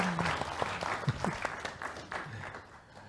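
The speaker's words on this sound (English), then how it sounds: "give them a round of applause as they join us" An audience at a live eye-health and work conference session applauds as panelists come onto the stage: a steady round of clapping with scattered louder claps and voices speaking over it.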